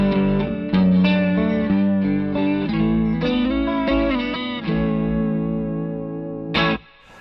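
An electric guitar plays chords and notes through a Walrus Audio Julia pedal set to a sine-wave vibrato, the pitch gently undulating, with a final bright strum at the end.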